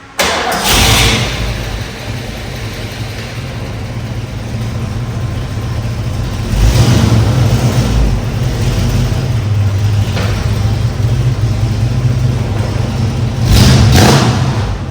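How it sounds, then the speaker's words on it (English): A 1967 Ford Mustang Fastback's V8 engine rumbles at idle with a deep, loud low throb, broken by a few sharp revs that flare up and settle back. "enjoy a bit of that V8 noise"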